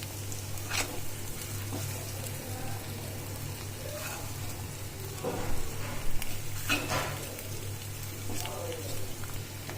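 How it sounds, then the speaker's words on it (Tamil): Masala-coated boiled eggs roast in a pan on low heat, giving a soft steady sizzle with occasional scraping stirs, fairly quiet under a constant low hum. "நான் சிம்ல வச்சு நல்லா ரோஸ்ட் பண்றேன்."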